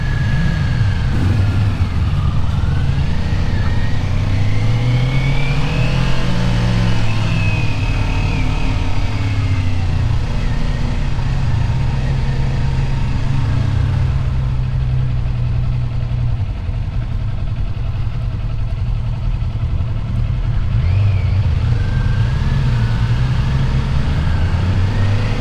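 A 2022 Kawasaki Ninja 400 motorcycle engine on a test ride, a steady loud drone with slowly rising and falling pitch as revs shift, continuous and close throughout.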